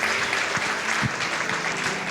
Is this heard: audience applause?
yes